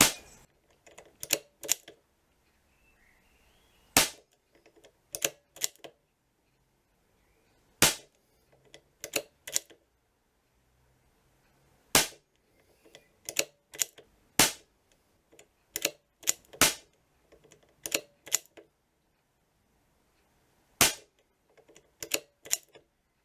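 Air Arms S200 air rifle fitted with an Altaros air cylinder, firing a long series of sharp, dry cracks, single and in small clusters, spaced irregularly with quiet gaps between, close and alone.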